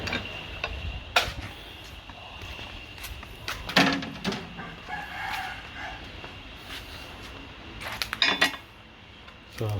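Hammer knocking a metal part clamped in a vise while repairing a Mk2 Escort parcel shelf: a handful of sharp, ringing metallic strikes spaced irregularly, some in quick pairs, over quiet workshop background.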